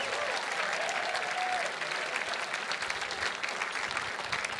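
Sustained audience applause fills a gala hall, dense and steady clapping from a large crowd throughout, with a voice briefly heard over it.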